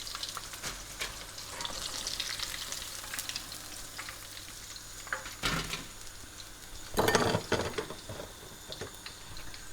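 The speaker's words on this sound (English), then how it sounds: "these have been frying for 3 minutes, so we'll get them out" Salt and pepper prawns deep-fry in hot oil, giving a steady, fairly quiet bubbling sizzle throughout, with a few louder crackling surges near the middle and end. No voices.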